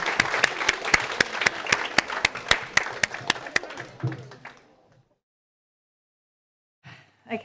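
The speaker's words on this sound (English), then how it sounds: "Round of applause for Heavenly Voices" Audience at a mediums' presentation in Weymouth, Dorset claps in sharp, distinct hand claps for about four seconds, then the applause fades out into silence with a brief sound at the very end.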